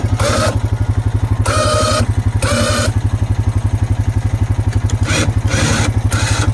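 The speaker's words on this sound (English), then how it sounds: "I'm going to bring my four-wheeler around over here." Four-wheeler ATV engine idling close by with a rapid, even low thump, while faint voices come through in short bursts.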